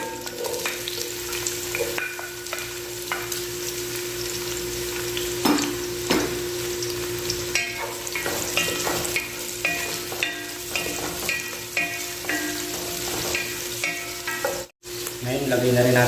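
Onion frying in oil in a pan for a chicken curry: a continuous close sizzle with repeated scraping and stirring strokes, and a brief dropout near the end.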